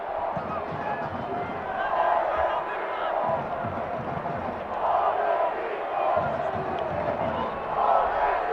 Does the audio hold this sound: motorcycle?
no